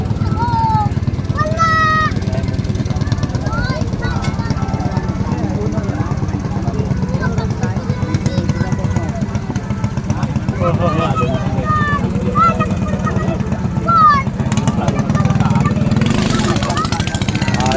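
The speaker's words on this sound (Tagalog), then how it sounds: "Ready na yata ang mga makina nila lahat." Racing boat engines run during Kress Cup national race testing, a continuous buzzing, rattling drone with rising and falling revs, while people talk and voices carry over the noise throughout.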